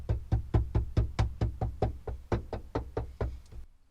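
Knuckle knocks on a van floor fitted with extra sound deadening, a steady run of about fifteen dull, thudding raps, close and fairly evenly spaced, ending in silence.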